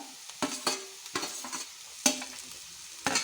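Carrots and capsicum stir-fry for upma in a pan: a soft sizzle under a few distinct scraping spatula strokes at irregular intervals, close and fairly quiet, with no speech.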